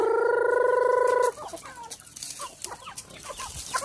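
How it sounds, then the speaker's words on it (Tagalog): Chickens cluck repeatedly at close range, opening with a drawn-out, tonal squawk and followed by scattered short clucks and a low murmur. "Ang pagkadaghan og manok."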